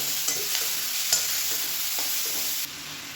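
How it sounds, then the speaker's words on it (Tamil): Chopped tomatoes and chillies sizzling in a pan for chutney, a steady close hiss broken by a few scraping stirs of a spoon, the sizzle dropping slightly near the end. "இப்போ அதில் மீடியம் சைஸாக 2 தக்காளி கட் பண்ணதை சேர்த்துக்கலாம்"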